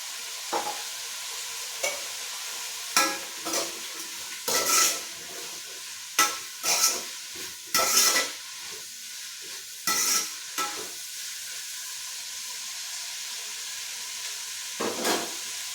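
Onions sautéing in a pan with salt give a soft, continuous sizzle, with repeated louder scraping bursts as they are stirred, close by and with no talk.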